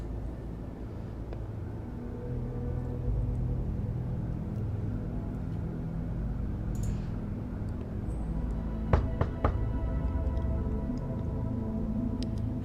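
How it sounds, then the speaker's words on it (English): Knocking on a motel room door (room 207) in The Wolf Among Us video game: a quick cluster of three or four sharp raps late in the clip over a steady low rumbling ambience. "Let's knock."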